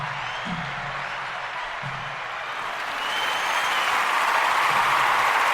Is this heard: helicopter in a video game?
no